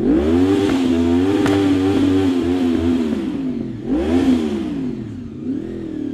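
A motorcycle engine being rev-bombed up close, loud and continuous, its pitch swinging up and down through several throttle blips before settling into a rougher idle.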